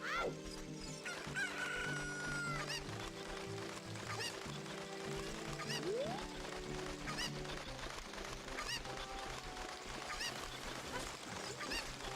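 Chickens cluck and a rooster crows in The Legend of Zelda: Ocarina of Time, with busy repeated bird calls continuing throughout over steady game music.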